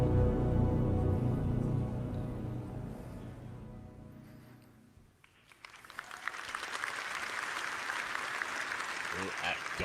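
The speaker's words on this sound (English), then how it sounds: "Golf claps for that, really?" Talk gives way to a light, scattered patter of polite golf claps from a convention audience at CitizenCon, the clapping rising midway and continuing at moderate volume.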